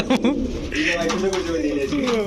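Racer, Sirazi, Budapest, Danish and Beauty breed pigeons coo softly in the background while people talk nearby.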